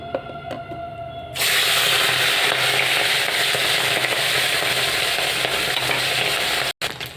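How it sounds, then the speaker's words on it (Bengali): A loud, steady sizzle of small mourala fish frying in hot oil begins after a second and continues, close by, with a brief drop near the end. "মাছগুলোকে ভালো করে ভেজে নিচ্ছি"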